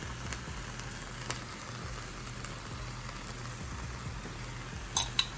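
Minced garlic and mushrooms fry softly in a pan with a faint, steady sizzle, broken by a few light clicks and a louder clatter near the end.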